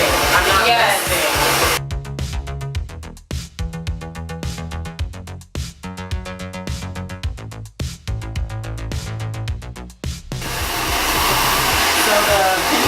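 A hair dryer blasts on high heat, a loud steady rushing roar that cuts in and out several times as it is switched or moved, with faint music underneath.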